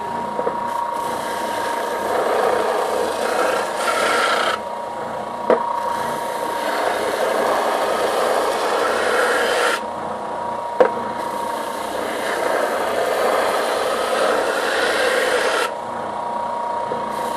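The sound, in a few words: sanding a wooden bandsaw box with sandpaper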